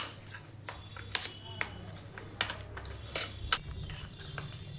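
Soybeans being mixed with mustard oil in a bowl, with a spoon clinking and tapping against the dish in irregular light strikes over a low steady hum, and a person talking now and then.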